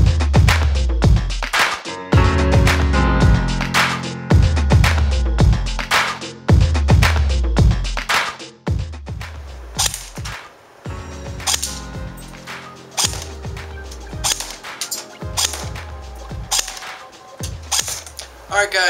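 King Arms M4A1 CQBR airsoft rifle firing .20 BBs over a chronograph, loud sharp mechanical shots in short bursts and singles, each with a snappy clack, repeated steadily through the clip.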